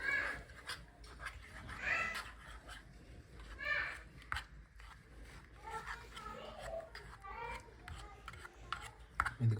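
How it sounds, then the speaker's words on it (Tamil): Soft scraping and squishing of mashed sweet potato being stirred for a miniature halwa in a tiny pan, with irregular rubbing strokes, quiet and close throughout. "நல்லா மசிச்சு மிக்ஸ் பண்ணிக்கோங்க."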